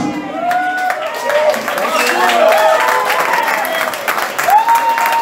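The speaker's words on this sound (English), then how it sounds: "please, big round applause for Markus." Bar crowd at a blues jam session applauds for a performer, steady clapping heard beneath someone speaking over a microphone and other voices nearby.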